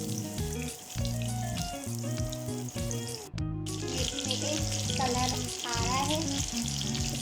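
Seekh kababs on skewers sizzle steadily on a stovetop as they are slowly turned, a continuous frying hiss running under loud music with a brief spoken word.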